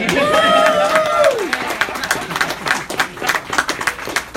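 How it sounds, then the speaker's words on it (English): A crowd at an awards night breaks into applause and cheering, opening with a loud whooping voice before settling into dense, ongoing clapping from many hands. "Round of applause, everybody"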